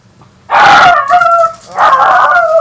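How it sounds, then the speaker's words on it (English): A neighbours' dog gives two loud, drawn-out howling barks close by, each lasting about a second, separated by a short pause. "Noisy ass dog. Just the neighbours."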